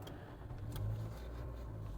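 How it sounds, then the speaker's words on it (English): Car engine cranks and catches in a shop, a low rumbling start that settles into a steady idle, close and moderately loud. "what happens now if we crank the car"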